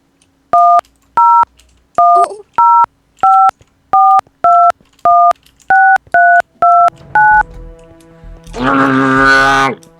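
A phone number is keyed in within the Minecraft video game, about a dozen crisp two-tone dial beeps in quick, even succession, followed by a brief burst of ringing at the end.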